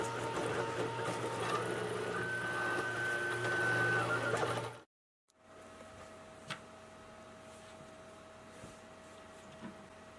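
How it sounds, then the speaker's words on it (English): A 3D printer prints small skimmer weir blocks for a swimming pool, giving a steady whirring of stepper motors with a faint tonal whine, then a brief stop before quieter, sparser motor hum resumes. "now I have to wait for the printer to complete these 2 new blocks"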